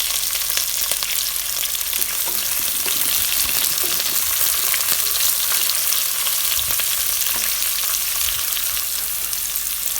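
Chopped onions and green chillies sizzling in hot ghee for Tamil-style ghee rice, a steady close crackling hiss with occasional stirring scrapes and no voices.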